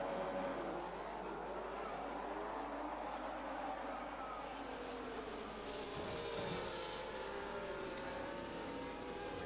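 Racing cars in a video game run the Azerbaijan Grand Prix, their engines producing a steady, continuous roar that shifts in pitch as they accelerate and pass, with no voices over it.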